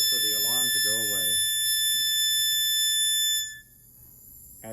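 A heliox delivery system alarm sounds as a sustained high electronic tone, continuing over a voice talking at first, then cutting out partway and leaving only faint background.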